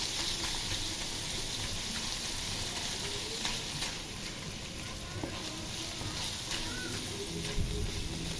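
Ground meat browns in a hot pan with a little liver, a steady loud sizzle and crackle of frying with occasional stirring scrapes throughout, a voice talking faintly underneath.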